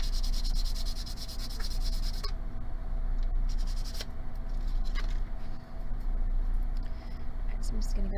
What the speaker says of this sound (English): we're just going to take some sandpaper to that